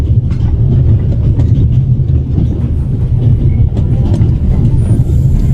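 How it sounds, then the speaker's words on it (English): A runaway train in the Alps rumbles loudly and continuously in a video game scene, with a heavy low roar and faint clattering wheels throughout. "now you're here, on an out-of-control train in the Alps"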